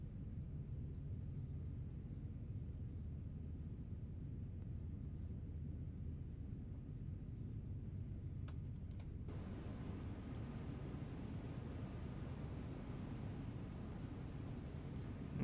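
A train in Train Sim World Great Western Express accelerates at full throttle, a faint, steady low engine rumble and drone that holds on throughout, with a slight brighter hiss joining partway through.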